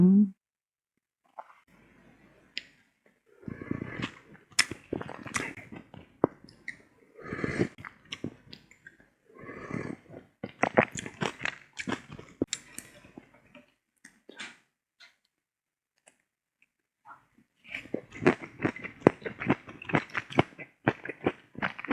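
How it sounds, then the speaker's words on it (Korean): Close chewing and slurping while eating homemade mala tang, with irregular wet bites and mouth sounds in clustered bursts separated by brief quiet stretches. "오늘 먹을 음식은 아내가 만들어준 마라탕을 먹어보도록 하겠습니다"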